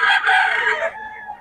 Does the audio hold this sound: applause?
no